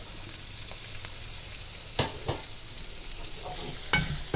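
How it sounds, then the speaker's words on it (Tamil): Fennel seeds, onion, curry leaves, ginger-garlic and green pepper crackle gently in hot oil, a low steady sizzle with a few sharp pops and stirring scrapes. "பச்சை மிளகு, இஞ்சி பூண்டு, வெங்காயம், பச்சை மிளகு, கருவேப்பிலை, சோம்பு போட்டு தாளித்தோம்."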